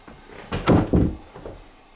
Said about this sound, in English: up that thing, shut this door.